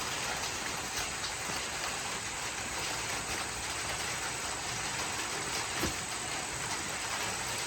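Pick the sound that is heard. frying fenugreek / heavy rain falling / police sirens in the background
heavy rain falling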